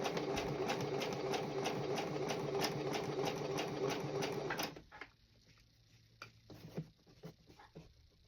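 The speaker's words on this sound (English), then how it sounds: "I'm going to be sewing over that snap tab, and I'll be sure and double go back and forth at least 2 or 3 times" A sewing machine stitches over a snap tab on a mini pouch, running loud and continuous for several seconds before stopping, followed by quiet handling clicks and shuffling.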